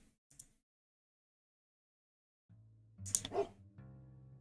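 A dog barks in a video game set in a cursed house: a short yip near the start, then after a silence a louder burst of barking over low game sound, ending in a held tone.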